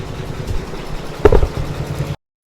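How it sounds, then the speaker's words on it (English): A Brother V5LE embroidery machine sews a zigzag tack stitch on an in-the-hoop passport cover, giving a steady close mechanical whir with one brief louder knock before it cuts off. "I'm now going to stitch step 4, which is going to tack those two pieces in place with a zigzag stitch."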